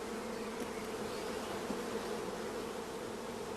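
Honeybees from a shook swarm buzz steadily as old workers fly off toward their former hive stand, a dense, even drone of many insects with no talking.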